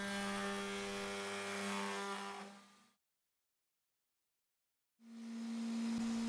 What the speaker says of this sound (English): The CNC allows for neatly and permanently marking templates as well.